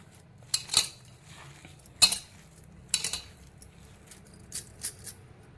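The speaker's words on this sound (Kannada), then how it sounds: "ಇದನ್ನೆಲ್ಲ ನೀಟಾಗಿ ಮಿಕ್ಸ್ ಮಾಡ್ಕೊಂಡ್ಬಿಡ್ತೀನಿ" A spoon stirs potato stuffing seasoned with masala, chaat masala and black salt in a bowl for panipuri, making several close, separate scrapes and clinks against the bowl with quiet pauses between them.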